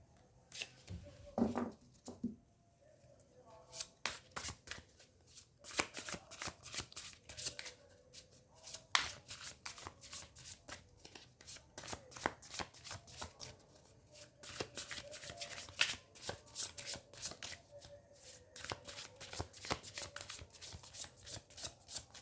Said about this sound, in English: let me pull out some more cards for you